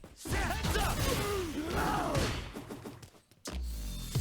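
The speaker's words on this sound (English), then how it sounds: "So this is light Blanka Ball, and then this will be heavy." Blanka's strained vocal shout from Street Fighter plays over the whooshing, rolling rush of his Blanka Ball attack, then after a brief silence the noise bursts back in loudly.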